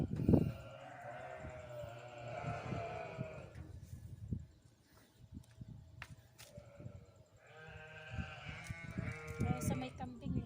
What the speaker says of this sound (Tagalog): Ang iingay ng mga ano eh, ng mga tupa eh. Saka yung kambing.